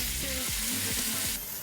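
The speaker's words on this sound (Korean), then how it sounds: "엄청난 두께를 자랑하는 고기가 지글지글 이렇게 딱 한 상 차려지는데요" Thick cuts of barbecue meat sizzle on an outdoor grill, a steady close crackle and hiss running throughout with no voices.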